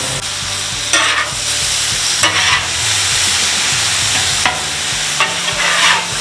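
Zucchini fries in butter on a Blackstone griddle, a steady close sizzle running throughout, with a few louder scraping stirs from a spatula along the way.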